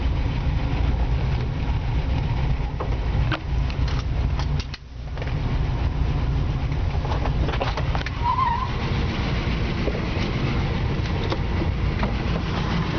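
A 1957 Chevy 150 Handyman engine idles evenly for the whole stretch, a constant low rumble with a brief dip midway and no talking.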